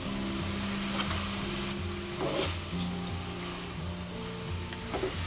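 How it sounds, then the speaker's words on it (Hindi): Veg chowmein noodles stir-fried on high flame, a steady close sizzle with intermittent tossing and scraping in the wok, no voices. "तेज आंच पर अच्छे से हमने मिक्स करते हुए 3 मिनट तक पका लिया है"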